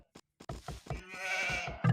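Sheep bleat in a real-time strategy game, several short wavering calls in quick succession over soft clicks and knocks, close and clear with no talk.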